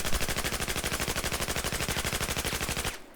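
Automatic gunfire aimed at a wall in Battlefield 4, a long rapid burst of evenly spaced shots that is loud and close and stops sharply near the end, with no talking.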